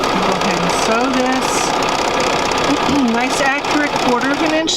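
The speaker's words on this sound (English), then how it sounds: "I'll go ahead and sew this. Nice accurate 1/4 inch seam allowance." A sewing machine runs steadily, stitching a quarter-inch seam allowance on a quilt block, its hum loud and continuous throughout.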